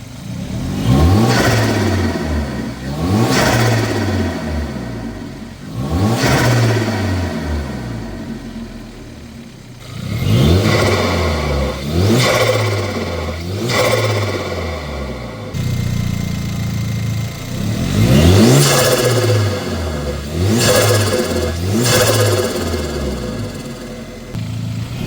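A Hyundai Veloster Turbo fitted with a short ram intake revs repeatedly, each rise and fall of engine pitch repeating in quick cycles over about 25 seconds, loud and close, with whooshing intake noise and no talk.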